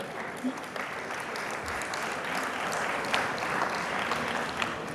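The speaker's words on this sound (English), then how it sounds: "Give him a round of applause." Audience applause at a 2007 community forum, a dense, steady wash of many hands clapping that holds at an even level for the whole stretch, heard at some distance in a large room.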